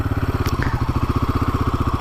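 A Royal Enfield Himalayan 450 motorcycle engine pulls at low speed in first gear, a loud, steady, rapid thumping pulse close up with no talking.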